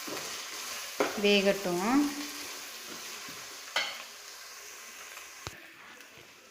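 Egg fried rice is stirred and tossed in a hot pan, with steady sizzling and a few scraping, clattering strokes of the spoon near the start, then a quieter fry and a sharp tap; a voice speaks briefly.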